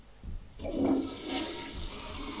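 A toilet flushes once in the video game The Suffering, a short rushing gurgle of water that swells and then trails off, close and clear with no talking.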